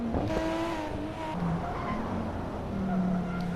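Race cars, including a Supra and a BMW, pass on a mountain track in a racing video game, with engine whines rising and falling and a commentator's voice over the engine noise.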